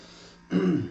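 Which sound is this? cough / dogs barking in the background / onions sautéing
cough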